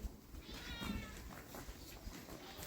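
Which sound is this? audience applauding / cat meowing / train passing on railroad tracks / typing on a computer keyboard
cat meowing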